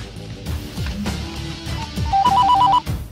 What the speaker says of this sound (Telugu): వానికి ఫోన్ కలిపిరా.